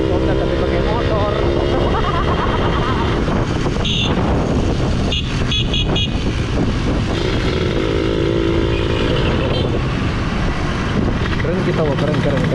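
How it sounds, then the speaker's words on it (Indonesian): Two-stroke motorcycles ride through city streets at night in Palopo, their loud, buzzy engines revving and droning continuously up close, with pitch rising and falling as they accelerate, and voices mixed in. "jalan kota tapi pakai motor."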